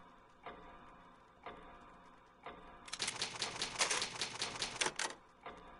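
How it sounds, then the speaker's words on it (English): Old typewriter keys from the Resident Evil HD Remake video game, struck in a few spaced single clacks, then a rapid burst of dense typing before one last lone strike, crisp and close with no voices. "It's an old typewriter. You can save your progress"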